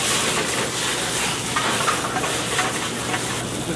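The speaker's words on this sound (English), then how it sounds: "We like those to sizzle a little bit." A steady, close sizzle of whole garlic cloves frying in a hot pan, a dense crackling hiss with small pops, continuous and fairly loud with no talking.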